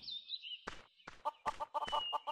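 Chickens in the video game Mabinogi let out a run of short clucks in quick uneven bursts, clear and close, after a thin high whistling tone.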